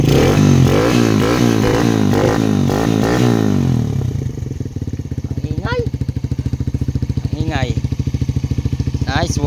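A GD110 motorcycle fitted with a new R150 Fortress muffler revs for a few seconds with a rising and falling engine note, then settles into a steady, pulsing idle close by with a few clanks over it.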